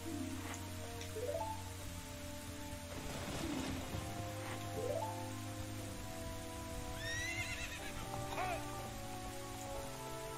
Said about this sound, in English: That's an awesome horse he's got.